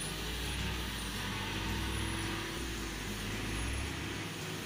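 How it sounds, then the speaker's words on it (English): Heavy logging truck with a 510 horsepower diesel engine, loaded with long timber logs, driving through a forest, a continuous loud low engine rumble throughout. "the truck moves through the forest like a beast, conquering every rugged terrain"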